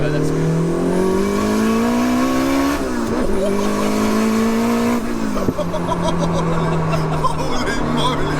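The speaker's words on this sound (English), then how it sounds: "That is an angry car." A big-turbo Toyota MR2 engine revs hard and close, pitch climbing in long pulls with brief drops between gear shifts, loud and continuous, with voices faintly underneath.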